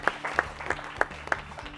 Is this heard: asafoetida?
no